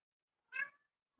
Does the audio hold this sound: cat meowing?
yes